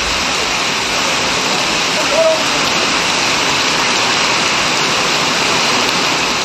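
Steady, dense rain pours in the Rasipuram area of Namakkal district after a spell of heat, a loud, continuous broadband hiss with no pauses.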